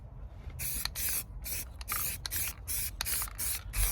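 An aerosol can sprays paint onto a repaired Ford Focus sill in a series of short, hissing bursts with brief gaps between them, close and steady over low background rumble.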